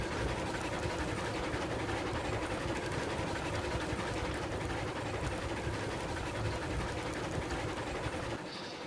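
A steam locomotive engine runs in the railway video game Railroads Online, a steady dense rumbling chug that holds even for about eight seconds before dropping slightly at the end, with no talking.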